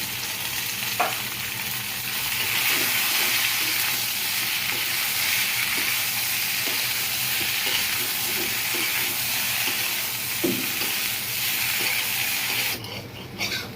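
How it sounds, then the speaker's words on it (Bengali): Okra and potatoes fry in oil in a pan, giving a steady, loud sizzle with occasional stirring scrapes throughout, and no voices. "এখন আমি ভেন্ডিটা ঢেলে দিব। এটা ভালো করে ভাজবো।"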